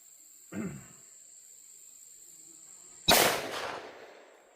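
Two 10mm pistol shots with 135-grain rounds from a 3.8-inch barrel fired over a chronograph outdoors, a softer report followed by a much louder sharp crack that decays quickly, with a steady high electronic whine underneath.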